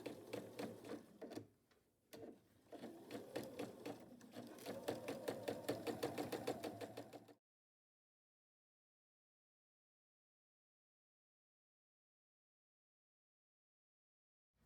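A sewing machine stitches through the rolled layers of a burrito-style pillowcase with a regular presser foot, a fast steady close whir of needle strokes that runs for several seconds and then stops, leaving silence.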